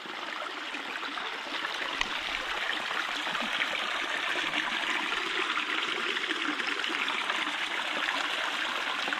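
A stream flows steadily through a forest at low water, with a continuous rushing and trickling of water, even in loudness throughout, and nothing else stands out.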